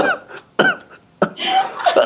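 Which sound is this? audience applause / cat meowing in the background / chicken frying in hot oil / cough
cough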